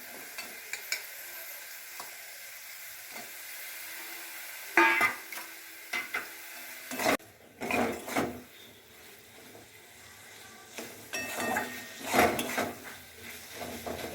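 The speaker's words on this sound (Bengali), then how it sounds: "এইবার দেখো, মশলার সাথে শুটকি মাছটাকে একটু কষিয়ে নিচ্ছি ভালো করে।" Soaked dried shutki fish fries and is stirred with spices in a pan, a soft sizzle broken by intermittent scraping and clattering of the stirring utensil, fairly quiet and without talk.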